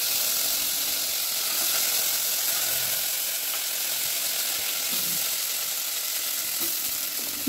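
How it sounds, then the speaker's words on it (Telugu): Garlic, a handful of curry leaves and mint fry in hot oil for sambar rice, making a steady, loud, even hiss and sizzle close by, unbroken and without talk. "వెల్లుల్లిపాయలు కొంచెం వేగిన తర్వాత దీనిలో ఒక గుప్పెడు కరివేపాకు, కొంచెం పుదీనాకును కూడా వేసుకొని ఫ్రై చేసుకోవాలి"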